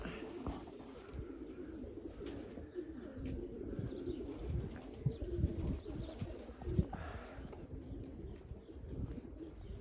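A pied pigeon coos softly inside a shed, low repeated throaty calls with faint chirps and rustling around them, fairly quiet and slightly distant.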